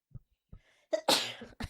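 A single sharp human sneeze close to the mic, led in by a few quick breathy intakes and followed by a short trailing breath.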